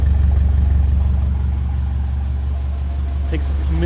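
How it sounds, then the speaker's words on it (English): A car engine, still cold, idles smoothly and evenly with a steady low throbbing hum that stays close and fairly loud throughout, without stumbles or misfires. "So listening to that engine, it does seem to be happy. It's running clear."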